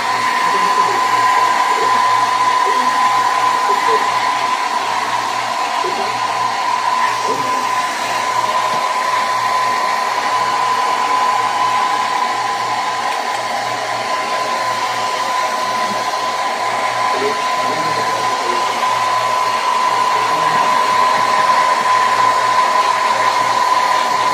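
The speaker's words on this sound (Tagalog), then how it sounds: "kailangan i-blow yung buhok" A hair dryer blows steadily and loudly throughout, a constant high whirring drone with no breaks.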